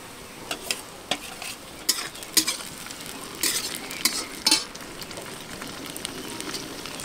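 Tomatoes go into onion and garlic already frying in a pan for a Bengali-style chicken curry. A low sizzle runs underneath while a spoon scrapes and clinks against the pan in scattered sharp bursts, with no voices.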